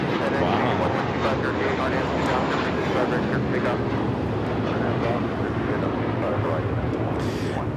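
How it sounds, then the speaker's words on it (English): An American Airlines Airbus A321 takes off from Los Angeles LAX, giving a loud, steady, broadband jet roar that fills the whole stretch without a break. "This is American Airlines 2091 taking off to Dallas."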